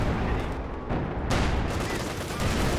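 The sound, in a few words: anti-tank guns firing in the video game Company of Heroes 2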